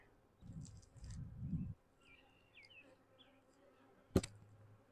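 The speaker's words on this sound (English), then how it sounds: "A lot more bees in there than I thought there would be." Honeybees in a weak hive being opened after smoke, a low buzzing hum in bursts near the start, then quieter background buzz with a sharp knock partway through.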